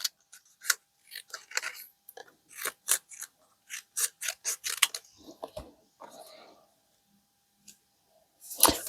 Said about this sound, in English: I'm going to cut that in half.